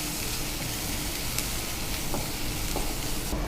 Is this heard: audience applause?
no